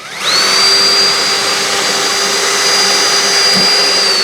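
A power drill boring a 13/64 hole through the wing of a 65-inch OMP Hobby Bushmaster RC plane, a loud, steady high-pitched whine that spins up quickly and holds close and continuous, with a brief dip near the end.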